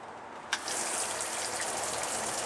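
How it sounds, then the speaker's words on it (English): Water rushes from a tap in a camper shower, a sudden start after a click and then a steady hiss, with no clear separate hum from the quiet new water pump. "I don't know if you can hear the pump back there."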